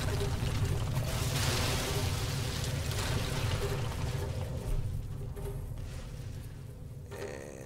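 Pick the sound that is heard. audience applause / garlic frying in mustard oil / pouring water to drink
pouring water to drink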